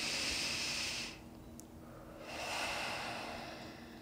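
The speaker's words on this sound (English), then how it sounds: "take a deep breath in and out through both nostrils." A slow, deep breath drawn in and let out through both nostrils during a children's yoga breathing exercise, heard as two soft, airy hisses separated by a brief quiet pause, close and gentle with no talking.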